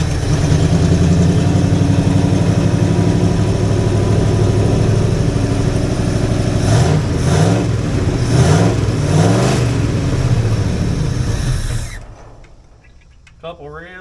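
An old Jeep engine starts and revs a few times, loud and close, with rising and falling revs mid-run before it sputters out and cuts off, leaving near silence; a voice speaks faintly under the engine.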